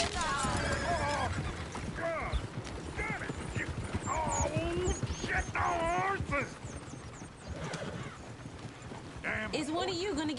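Horses whinny several times over a busy bed of clopping hooves, with overlapping voices talking throughout, in the video game Red Dead Redemption 2.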